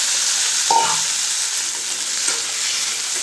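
Sliced potatoes dropped into hot mustard oil in a pan, giving a steady bright sizzle throughout, with a brief stir or clink near the start and the frying noise continuing evenly and close.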